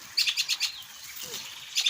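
Small birds chirping in the countryside near a coffee plantation, a few quick high tweets in short bursts, faint and fairly distant.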